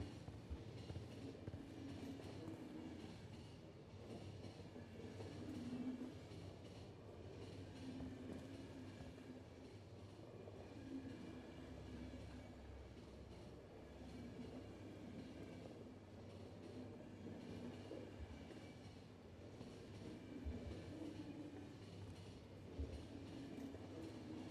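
A train rolls steadily along its rails in a video game, a continuous rumbling drone with faint rhythmic wheel clatter that stays even and moderately loud throughout, with no voices.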